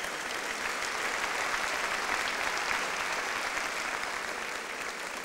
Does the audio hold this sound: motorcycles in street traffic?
no